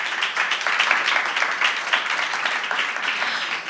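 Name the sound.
audience applause welcoming a panelist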